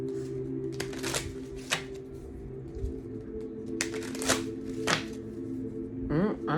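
Tarot cards being shuffled by hand, several crisp riffling bursts and soft slaps close up, spaced unevenly over a steady low background hum.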